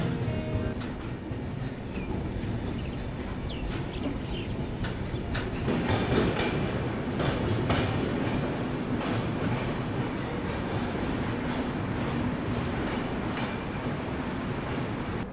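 A train moves through Lumding railway station with a continuous rumble and rattling clatter of wheels and cars, steady and moderately loud throughout.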